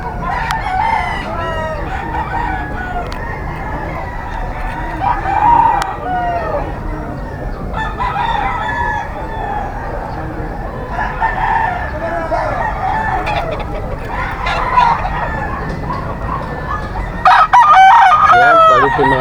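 Bull stag roosters crow repeatedly at a gamefowl market in Bocaue, loud nearby calls overlapping with clucking and a busy crowd backdrop, several crows rising over the din.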